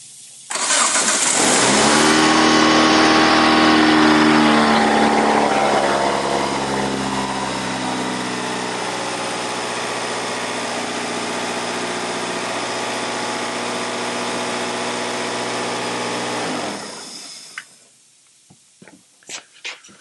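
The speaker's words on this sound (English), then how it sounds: "We're going to start the car." Car engine cranking and firing after a crank sensor replacement, a loud burst as it catches, then a steady idle for about fifteen seconds before it shuts off, followed by a few faint clicks.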